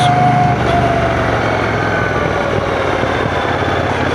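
The engine of a Brixton Cromwell 1200 motorcycle on the road, a loud, steady drone with constant rumble and no breaks.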